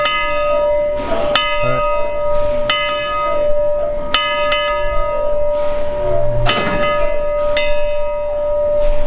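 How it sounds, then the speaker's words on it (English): A steam locomotive's bell rings at a steam train meetup, struck in a steady series of bright, loud, sustained clangs about every second or so, each ringing on over the last. "So is that awesome ringing the bell?"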